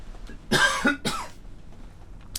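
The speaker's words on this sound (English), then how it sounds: "I move away from the mic to cough." A person coughs twice in quick succession, somewhat off-mic, with a short pause between the harsh bursts, then near silence, during a World of Warcraft dungeon session.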